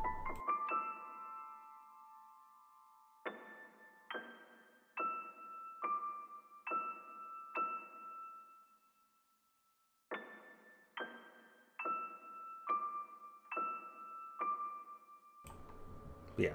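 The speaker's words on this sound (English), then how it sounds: "I think it's actually just, yeah, Lab Soft piano." Lab Soft piano playing a simple lofi beat melody in FL Studio: a sequence of soft, sustained chords and notes in a steady rhythm, with a short pause midway before the phrase repeats, clear and alone.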